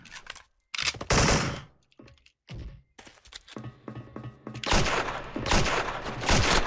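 AK74 rifle fire in the shooter game SF Ranger comes in loud, close bursts of rapid automatic shots separated by short pauses, with sharp repeated cracks throughout.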